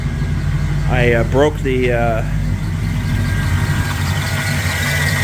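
An AMC 360 V8 engine idles in a car with a steady, loud, low rumble and a faint knocking undertone, while someone speaks briefly over it near the start.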